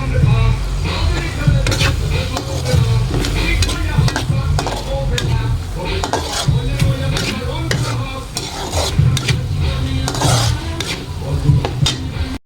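Tilapia fries in a pan with a continuous sizzle, punctuated by repeated scraping and clinking of a utensil against the pan.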